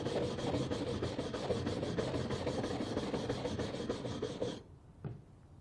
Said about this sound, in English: One of the first ones we have is a metal brush with a good handle on it.